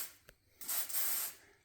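An aerosol can of carburetor cleaner, used to clean FCR carburetors, gives a short tap and then a close, loud spray hiss lasting under a second that fades out.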